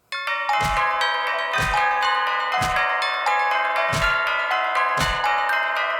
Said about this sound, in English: It's just the dinner bell.